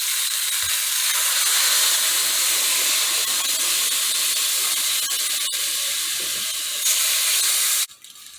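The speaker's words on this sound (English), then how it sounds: "I'm going to go ahead and just add some water." Water poured steadily into a pot holding a chuck roast seasoned with a beef bouillon cube, a loud, continuous hissing splash that runs unbroken for about eight seconds before stopping abruptly.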